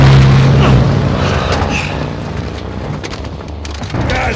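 Launcher fire and explosion in the Call of Duty video game: a loud, sustained rumbling blast fills the clip, with battlefield noise and faint gunfire crackle trailing off.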